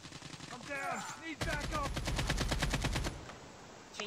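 Rapid automatic gunfire rattles in a dense burst of regular shots in CoD Mobile, after a short stretch of voice and game sounds.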